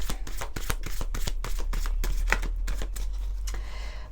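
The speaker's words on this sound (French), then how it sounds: "Allez, on va prendre d'autres cartes." Tarot cards being shuffled by hand, a quick series of crisp riffling flicks in steady bursts, close and fairly loud, with no talk.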